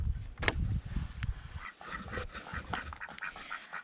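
A young duckling gives soft, scattered quacks and peeps amid farmyard bustle, with a louder squawk near the start and rustling noise underneath.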